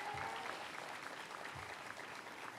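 Audience applause at a university building grand opening, a steady patter of clapping heard from some distance and fairly quiet throughout.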